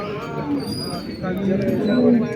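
A cow moos in a low, drawn-out call, with livestock sounds and a voice nearby in a busy barn setting at a cattle market with HF cows.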